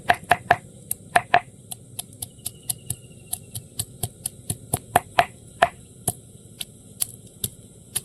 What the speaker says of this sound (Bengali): আমি পেঁয়াজটা কেটে নেব আর রসুনগুলো থেতো করে নেব